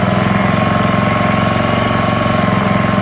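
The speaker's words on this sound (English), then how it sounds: "Honda Harmony 2 walk behind mower." Honda Harmony 2 self-propelled walk-behind lawn mower engine running steadily and loudly up close, with a fast, even chugging pulse and no talking.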